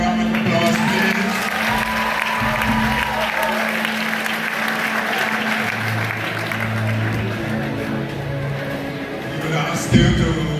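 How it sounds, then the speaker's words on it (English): A crowd at a high school graduation ceremony gives the graduating class a long, steady round of applause, with a low hum and some murmured voices beneath the clapping. "Give them another round of applause, please."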